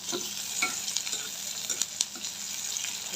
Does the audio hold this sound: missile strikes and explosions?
no